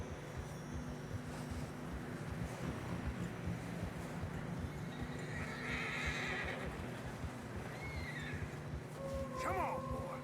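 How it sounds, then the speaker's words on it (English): Horses in Red Dead Redemption 2 snort and whinny as they struggle through deep fresh snow amid a steady rush of wind, with heavy trudging movement and someone talking faintly. "Come on, boy. Horses are struggling."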